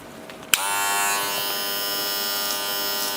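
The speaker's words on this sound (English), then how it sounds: "I'm gonna go in with my trimmer line all the way around the head" A hair trimmer clicks on and buzzes steadily at close range while cutting the line around the head for a mid skin fade, with a continuous high electric whine.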